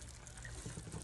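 Tomato sauce is poured into a pot of pork and chicken kaldereta, a brief, soft liquid glug and trickle heard close by.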